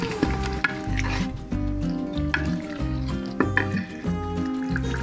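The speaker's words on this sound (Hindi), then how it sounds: "मसाला हमारा भुन रहा है, मैं इसमें ज़रा सा पानी डालूँगी, फिर इसको भूनेंगे।" Masala for tomato rice fries in a pan, a constant sizzle broken by a regular rhythm of spoon scrapes and knocks as it is stirred, close and loud, with no one talking.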